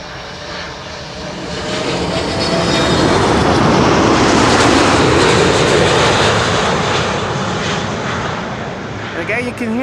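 An airliner lands at Schiphol on the Kaagbaan, runway 06, its broad engine roar swelling steadily over several seconds, holding loud and close, then easing slightly; a voice talks over it.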